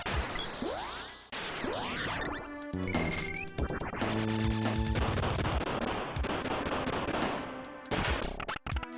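RuneScape spell explosions burst in dense crashing, whooshing and blasting sound effects, loud and nearly continuous, with chiming and layered impacts and no voices.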